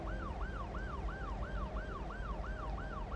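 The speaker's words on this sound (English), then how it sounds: "Get out of the way of the ambulance." Ambulance siren in the city-building game Cities Skylines 2, a steady repeating wail cycling about three times a second, fairly faint over a low rumble of traffic.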